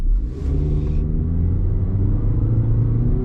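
A 2026 Toyota Corolla Cross with front-wheel drive pulls away from a standstill, its engine droning steadily and building in pitch as it accelerates, heard from inside the cabin.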